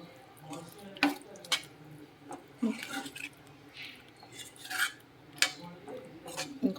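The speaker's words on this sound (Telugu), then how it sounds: "వాటర్ వేసి ఒకసారి మొత్తం అంతా బాగా మిక్స్ చేసేయండి" A spoon scrapes and clinks around a pan as poppy seed curry is stirred with added water, giving repeated sharp metallic taps and wet sloshing close by, with a voice talking at times.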